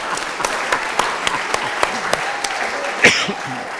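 An audience at an Indonesian education event applauds in a steady, moderately loud patter of many hands, with a louder burst near the end and faint talk mixed in.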